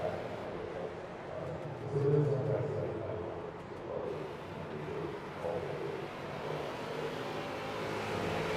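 A street stock race car engine droning through a qualifying lap at USA Speedway in iRacing, a steady mid-pitched hum with mild swells, fairly quiet beneath a commentator's talk.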